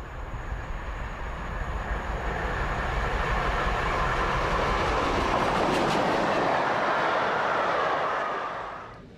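A British steam train pulling Pullman cars rolls along the rails, a steady loud rushing roar with rhythmic clatter from the wheels that builds through the middle and fades away at the end.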